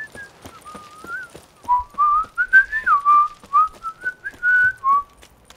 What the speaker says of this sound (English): Don't know why he was whistling,